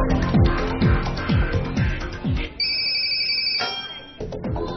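A phone ringback tone plays during a live call on a Chinese TV game show, a melodic ringtone with repeated falling notes and then a held, steady tone, loud and clear with no talking over it.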